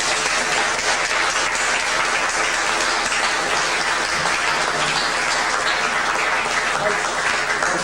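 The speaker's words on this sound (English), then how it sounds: "I want each of you here to applaud Charlie Norton for his courage." Sustained audience applause at an award ceremony, even and dense throughout with no break, the crowd clapping loudly and steadily.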